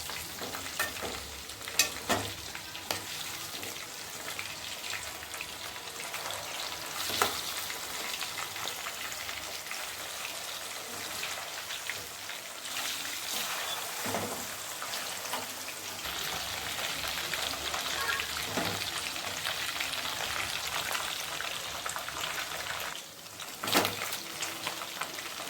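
Chicken wings coated in rice flour deep frying in oil over low heat, a steady dense sizzle and crackle with scattered pops, continuous and close throughout.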